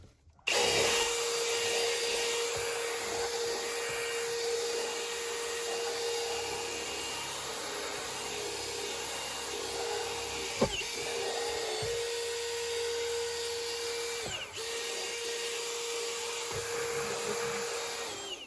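A power drill with a scrubbing attachment cleans the interior of a neglected Mustang GT, a steady high whine with a constant tone and rough rubbing texture beneath, close and continuous with a few brief knocks.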